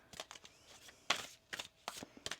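Tarot cards shuffled by hand in a quiet room, a series of soft riffling bursts and papery slaps spaced irregularly, close and fairly faint, with no talking.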